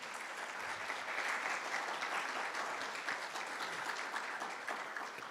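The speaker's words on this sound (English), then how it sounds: "We can give him a round of applause." Sustained applause from a crowd at a guide dog class graduation, steady dense clapping at moderate volume for several seconds with no voices over it.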